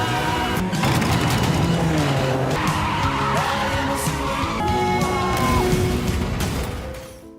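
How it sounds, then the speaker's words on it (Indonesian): A car in a film chase scene skids with loud, sustained tire squeals over roaring engine noise, then is hit from the side and rolls over. The sound fades slightly at the end. "sayangnya mobil Bok-nam ditabrak dari samping dan mengakibatkan mobilnya terbalik."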